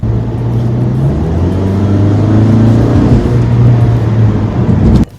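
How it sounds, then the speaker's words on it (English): A 2017 Mazda 3 hatchback accelerating, engine drone rising steadily in pitch under constant road and cabin rumble, loud and continuous from inside the car before cutting off abruptly at the end. "this car accelerates in a really zippy and peppy way"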